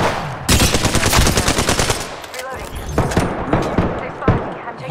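Rapid automatic gunfire in a first-person shooter video game comes in loud, close bursts of shots, with a player's voice talking over the shooting.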